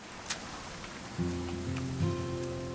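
Rain falling in Minecraft, a steady soft patter with scattered drop ticks, joined partway through by a sustained tonal hum, no talking.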